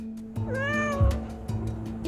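A cat with separation anxiety, left alone in a living room, lets out a single loud, drawn-out meow close by, rising then falling in pitch, over a faint steady hum.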